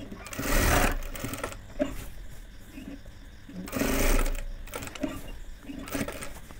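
A sewing machine stitches a child's panjabi in two loud, rapid bursts separated by quieter pauses, with a few softer mechanical clicks in between.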